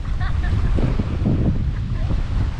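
Strong wind roars and buffets the microphone continuously by the sea in Barcelona, Sorsogon, with faint voices and a seaside wash blended underneath.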